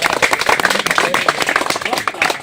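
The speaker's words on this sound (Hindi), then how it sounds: "इनके लिए जोरदार पहले तालियां बजा रहे हैं अपने।" An audience at a local gathering claps briskly in short bursts of fairly close hand claps, mixed with voices talking in the crowd.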